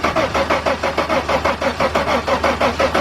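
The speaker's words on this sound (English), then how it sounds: "Crank it again." A 1997 Mercedes-Benz E320 engine cranks without catching, the starter turning over in a steady rapid pulsing rhythm, loud and close, with no voices over it.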